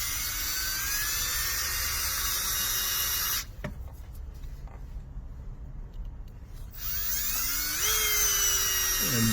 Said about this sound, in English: So I'm gonna drill a hole here, like in the center of that bolt.